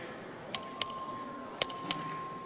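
In a legislative chamber, a clerk rings the voting bell: two pairs of bright, ringing dings spaced about a second apart, clear and close against quiet room noise.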